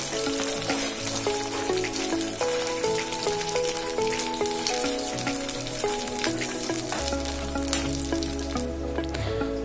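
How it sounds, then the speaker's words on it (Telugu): Prawns deep-frying in hot oil over a medium flame for pickle give a steady, dense crackling sizzle throughout, partly masked by tuneful background music. "మీడియం ఫ్లేమ్లోనే మనం వీటిని డీప్ ఫ్రై చేసుకోవాలి"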